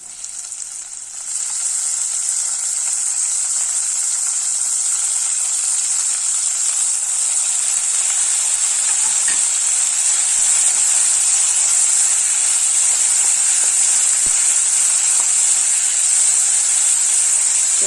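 Tomatoes and onions sauté with a little salt in a hot pan for green gram rice, giving a loud, steady hiss and sizzle that holds evenly the whole way through with no voices.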